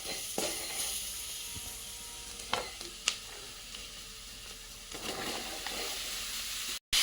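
Sliced mushrooms frying in oil with garam masala, a steady close hiss of sizzling with occasional sharp crackles and spatula scrapes, continuous throughout.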